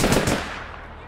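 Gunfire in the online shooter APB Reloaded, a loud dense burst of shots at the start that quickly decays into a fading tail, heard alone.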